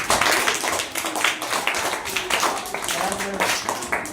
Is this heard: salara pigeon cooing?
no